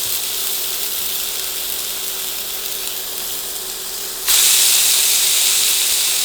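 Lemon pepper burger patties sizzle in hot olive oil. A steady hiss runs throughout, then jumps suddenly louder and brighter as they hit the pan, holding a loud, even sizzle to the end.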